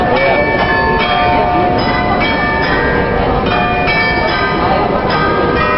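The bells of the Munich Glockenspiel ring in a continuous, bright chiming sequence of overlapping tones, struck at a steady pace and sounding fairly loud in an open outdoor setting.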